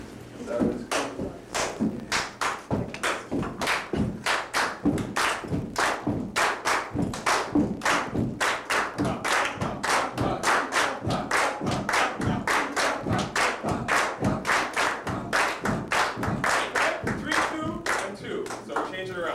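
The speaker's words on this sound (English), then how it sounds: "We're gonna add feet and hand claps" Feet stomping and hand claps in a rhythm exercise at a eurythmics musicians conference, a steady run of sharp, loud percussive hits lasting throughout, with some voices mixed in.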